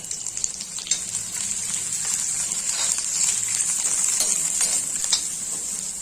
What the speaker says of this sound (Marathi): कांदा टाकलेला आहे, तर त्यामध्ये थोडंसं तेल टाकून ते परतून घेणार आहे।